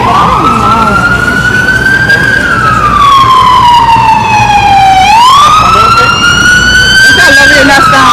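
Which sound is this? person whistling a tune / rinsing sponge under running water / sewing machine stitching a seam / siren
siren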